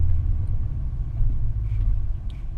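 A 2006 Mercedes-Benz CLS55 AMG accelerates, heard from inside the cabin as a deep, steady engine rumble that swells slightly with the road noise, with nobody talking.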